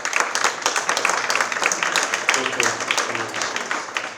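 Audience applause fills a hall during a festival round-table, a dense steady patter of many hands clapping for several seconds at moderate loudness, with a few voices faintly underneath.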